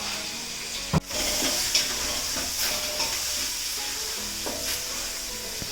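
A tempering of spices sizzles and crackles steadily in a hot pan at close range, with a sharp clatter early on and no voices.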